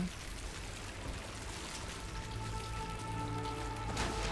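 Water sloshes and splashes as a character wades into deep, murky water in the Dishonored video game, a soft continuous rushing with faint trickles and no voices.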